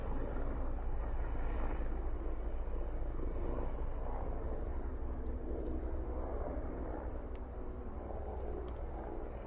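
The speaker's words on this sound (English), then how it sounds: "We can now hear some more helicopters coming around" Steady, loud rotor and engine drone of Mi-24 helicopters passing overhead in a war zone in Ukraine, a continuous heavy rumble with no voices throughout.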